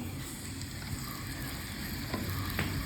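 A spoonful of oil poured into a hot clay pot on the stove for a homestyle fish curry, giving a steady, close, low sizzle with a few faint clicks and no voices.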